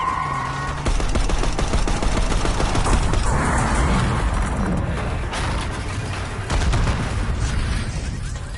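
Dense, continuous gunfire from a Black Ops 6 campaign firefight in a street, with rapid bursts and booming shots layered loudly over several seconds and no talking.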